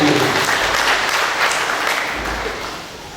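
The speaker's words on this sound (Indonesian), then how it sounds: "Tepuk tangan untuk Tuhan." A church congregation applauding at a church building dedication in Biak, Papua, a loud, dense wash of many clapping hands that slowly tapers off.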